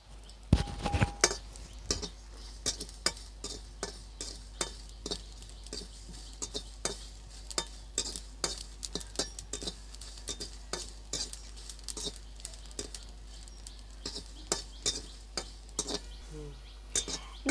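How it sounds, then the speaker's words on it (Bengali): Chillies and black cumin dry-roasting in a pan without oil in a village-style kitchen, with a faint sizzle under repeated scraping and clinking of a spatula or spoon against the metal, steady stirring strokes throughout. "লঙ্কাটা প্রায় হয়ে গেছে, এখন কালো জিরাটা দিয়ে দেবো।"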